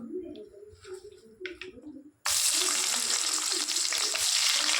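Onion dropped into hot ghee bursts into a loud, dense sizzle midway through, after a quieter opening of light kitchen sounds and faint cooing in the background.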